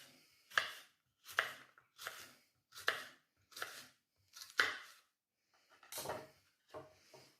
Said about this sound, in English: the key to cutting your veg is just make sure you have a nice sharp knife